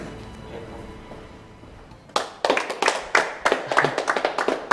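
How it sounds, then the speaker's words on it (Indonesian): Hand clapping starts after a quiet, murmuring stretch: a quick, fairly close run of sharp claps, steady and slightly uneven in rhythm, with no speech over it. "Udah, nggak usah tepuk tangan."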